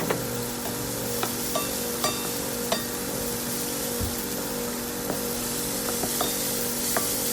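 Garlic sizzles steadily in hot oil in a pan for lumpiang gulay, a loud continuous frying hiss with occasional sharp pops and light stirring taps, no voices.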